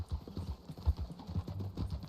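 Horse hooves in the video game Red Dead Redemption 2, a soft, even clip-clop of several steps at a walking pace, fairly faint and heard without talk.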